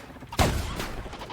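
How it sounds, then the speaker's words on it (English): A single sharp shotgun blast in The Outer Worlds, close and punchy with a brief rumbling tail, heard alone without talk. "Okay, sure, I'll use my shotgun."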